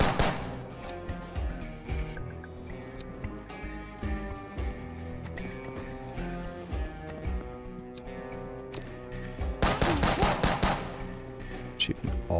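Gunfire in the John Wick Hex video game, with sharp shots cracking out irregularly over a steady tonal music bed and a dense cluster of rapid shots near the end.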